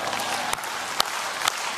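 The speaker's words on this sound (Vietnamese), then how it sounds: "Vỗ tay luôn đi ơi." A crowd at a Paris By Night comedy stage show applauds in a steady wash of clapping, with a few louder individual claps popping out near the end.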